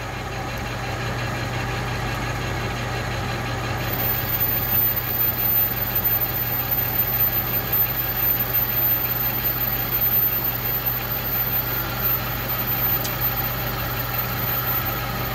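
A machine spindle runs at about 1,010 RPM while machining a titanium ring cut from a bolt, giving a steady low mechanical hum with faint cutting noise throughout and a brief tick near the end.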